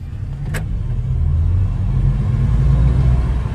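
Mazda MX-30 R-EV car accelerating, a close, loud low rumble of the drivetrain swelling steadily, with one brief click early on and no talk.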